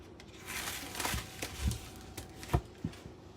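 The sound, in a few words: steak packaging crinkling as steak is taken out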